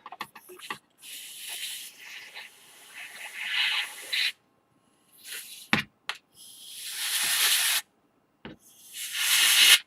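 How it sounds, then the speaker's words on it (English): Canned air duster blasts compressed air while cleaning circuit boards on a FloppyEMU repair, in several loud hissing bursts of a few seconds each, separated by brief silences and small knocks. "There's my air duster."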